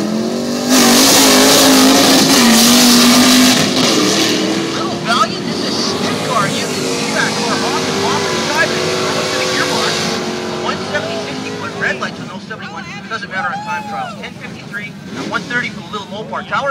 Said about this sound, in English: Paul Morgan from Victoria in a 65 Valiant, running against John Poland from Duncan, driving his 81 Chevy Corvette